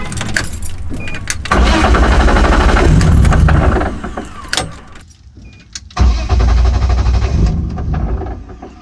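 A BMW E36 with an aftermarket tune cranks and fires, its engine catching loudly and idling unevenly, then stumbling and dropping nearly to silence before restarting and settling into a close, rough idle.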